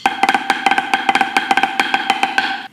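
Fast snare drum flam drag rudiment with tight, crisp 32nd-note double strokes, an even rhythmic stream of sharp hits up close.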